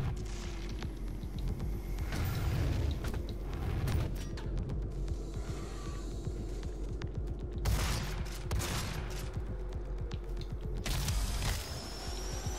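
Shotgun fire in the video game DOOM: heavy blasts and bursts of gunfire that repeat across a busy bed of in-game mechanical noise and rumble, with no talking.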